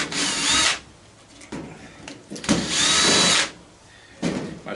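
A cordless power driver backs Phillips screws out of a scrapped ice maker in two long whirring runs and a short third burst, close and loud, with quiet handling pauses between them.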